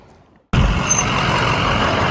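A Tesla electric semi truck roars in abruptly after near silence and stays loud and close, a steady broadband rumble with a brief high hiss.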